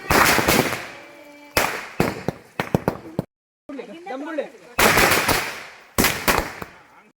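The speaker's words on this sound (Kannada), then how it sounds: "ಈಗ ದೊಡ್ಡ ಪಟಾಕಿ ಹಚ್ತಾ ಇದೀವಿ" Firecrackers bursting in a village during a Ganesh Chaturthi celebration: loud, sharp crackling volleys in several bursts with brief gaps, close by, with people talking between the blasts.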